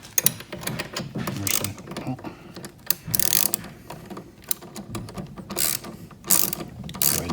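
Ratchet socket wrench with a 14 mm socket clicking in quick bursts while bolts are tightened during assembly of a 1300 W electric ATV, close by, with some faint handling noise and a voice in the background.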